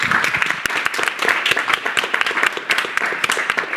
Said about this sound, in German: auch die kriegen jetzt nochmal einen Applaus